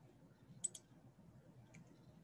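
A couple of small, sharp mouse clicks on an on-screen button in expense reimbursement software, separated by a quiet pause, with one more click at the very end and no talking.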